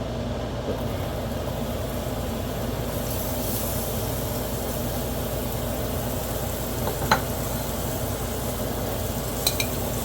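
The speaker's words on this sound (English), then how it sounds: "That's going to be to saute the vegetables and the ingredients, because it's going to be really quick." Mushrooms and onions sauté in a hot pan, giving a steady, moderately loud sizzle throughout with a few faint clinks of stirring and no talking.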